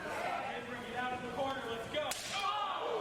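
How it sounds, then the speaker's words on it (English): A single sharp, loud wrestling chop, a hand slapping a bare chest, cracks out over a noisy crowd and commentary at a wrestling event in Greeley, Colorado. "And a loud chop reverberating throughout Greeley, Colorado."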